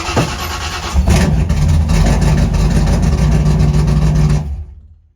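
An engine is fired up with a sharp catch and settles into a loud, steady, slightly lumpy idle for about four seconds, then cuts off abruptly. The engine is on a car called Sunburn and has a newly installed intake.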